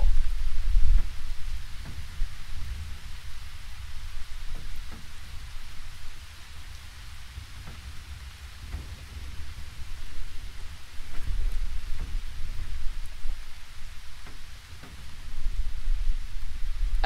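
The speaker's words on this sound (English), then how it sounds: "These rain noises," Steady rain hiss with low rumbling thunder from the video game Boogeyman 2, a continuous wash of rainfall that swells and eases, with faint occasional thuds underneath.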